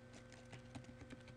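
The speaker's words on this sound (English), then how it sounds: "what you're going to want to type in is" Quick, close keystrokes tap on a computer keyboard in a short irregular burst, light clicks with no voices.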